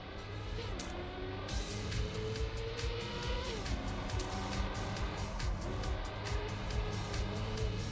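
A Trackmania stadium car drives continuously, its engine droning steadily with a buzzing, racing tone and faint clicks and bumps along the way.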